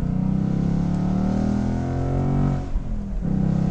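A 2018 Ford Mustang GT Convertible's engine pulling hard while driving on a back road, a loud steady rising drone that dips briefly on a gear change before climbing again, close and continuous.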